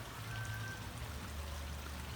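Steady, faint rush of water flowing along a channel toward a fish pond, continuous and even with no voices.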